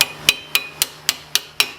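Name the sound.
hammering brake caliper on a Honda Accord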